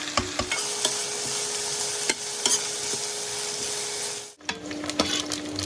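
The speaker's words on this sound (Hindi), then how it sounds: "तेल अच्छे से गर्म हो गया, इसमें हम फ्राई कर लेंगे प्याज।" Onions fry in hot oil, a steady close sizzle broken by occasional sharp clicks and scrapes of stirring, with one short pause near the end.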